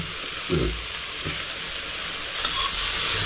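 Steady sizzling of food with a little turmeric frying in a pan, before river crab is added, with a couple of soft stirring knocks early on and no talking.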